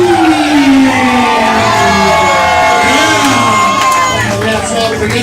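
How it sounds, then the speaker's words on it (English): A loud, close crowd at a live event cheers, whoops and shouts together in one continuous roar as players return to the stage, with excited voices rising and falling over the din. "I need you to put those hands together. Let's start clapping."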